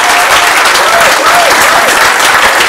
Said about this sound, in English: can we just have a huge round of applause, please, for Ken and Sid